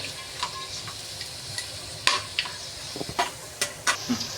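Sliced onions and cinnamon sticks fry and brown in oil for chicken biryani, a close, steady sizzle broken by sharp scraping and clanks as a spatula stirs the pan.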